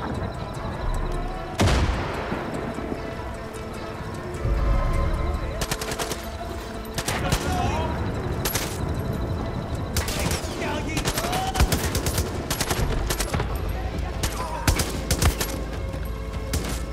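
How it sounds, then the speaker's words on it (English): Gunfire in the video game Far Cry 5: repeated bursts of automatic weapons and single shots crackle across the whole stretch, with loud blasts and a booming impact early on, steady and dense. "Are they shooting me?"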